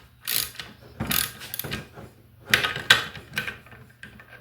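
A hand ratchet tightens a nut on the bracket of a classic Ford Thompson power steering pump, several quick bursts of rapid close clicking separated by short pauses.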